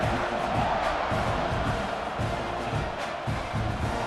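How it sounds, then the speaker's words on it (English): A stadium crowd in a College Football 26 game, Texas A&M against Missouri, keeps up a steady, dense roar after a score, loud and continuous throughout without clear individual voices. "this crowd is buzzing after that last score"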